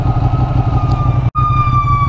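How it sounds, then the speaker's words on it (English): An ambulance siren on a freeway, a steady wailing tone holding loud and close throughout, briefly cut off by a short dropout near the middle before resuming, with traffic rumble underneath. "Ambulance is coming down."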